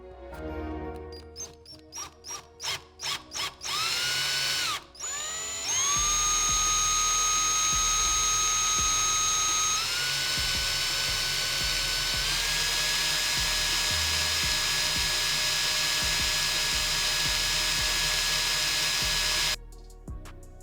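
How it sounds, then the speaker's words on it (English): A power drill whines steadily at high pitch after a few short bursts, grinding into the center of an antique metal fastener, its tone shifting slightly as it bites deeper. "now let's take this and we're going to drill right down"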